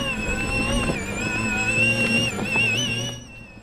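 A 4x4 Power Wheels Ford Bronco go kart drives along with a steady, high electric motor whine and rolling rumble close by, its pitch wavering slightly before cutting off near the end.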